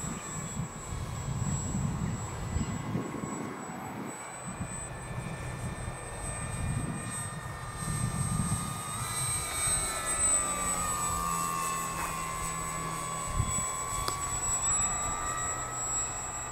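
Engine of a Super Cub light aircraft in flight, a steady continuous drone with a sustained tonal whine holding throughout, close and even in level, no voices present.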